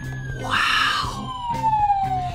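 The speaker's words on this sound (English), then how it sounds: "It even has sirens!" A black, white, red and blue toy police car plays an electronic siren, a falling wail repeating in short cycles, fairly close and clear with little else around it.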